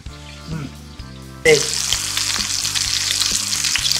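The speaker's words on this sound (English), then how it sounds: "we're just going ahead and frying this up for a couple of minutes" Food sizzles and crackles steadily in a hot pan, starting softer and then jumping louder as it's stirred, with a constant hiss throughout.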